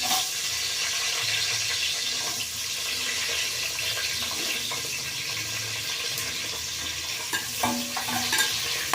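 Onions sizzle loudly in a pan for tomato bath while being stirred, a dense continuous frying hiss with scraping and clinks of the spoon throughout.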